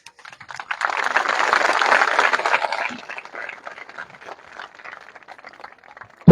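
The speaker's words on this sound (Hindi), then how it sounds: "थोड़ियां तालियां बज रही ने आस पास।" Light, scattered clapping from a church congregation, a soft patter of many hands that swells for a few seconds and then thins out into sparse claps.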